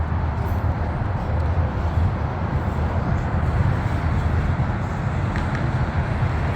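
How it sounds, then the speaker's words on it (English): CSX EMD SD70MAC locomotives in notch 8 hauling a heavy 200-car coal train up the Mt. Airy grade, a steady distant rumble and drone blended with outdoor ambience. "Even from here, I can still hear the locomotives working real hard."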